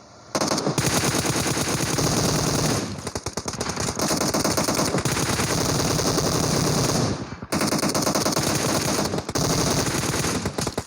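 Automatic gunfire in the PUBG Mobile battle royale game rattles in long, loud, rapid bursts, with two brief pauses between volleys, and no one speaking over it.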